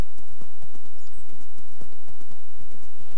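A horse's hooves clip-clop in the Minecraft video game, a steady, loud rhythm of hoofbeats right up front with no talk over it.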